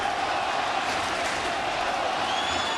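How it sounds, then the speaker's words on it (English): Crowd noise fills Citi Field during a Mets–Cardinals baseball game, a steady broad roar of thousands of fans chanting the pitcher Johan Santana's name, continuous and dense throughout. "The chant of Johan from the crowd at Citi Field."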